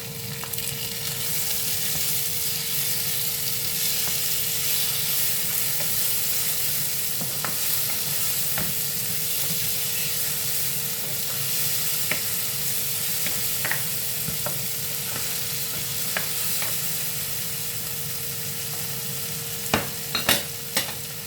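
Fresh garden tomatoes frying with browned onions in a pan for a bottle gourd and ground pork dish, a constant sizzle with intermittent spoon scrapes and stirring clicks, fairly close and without speech.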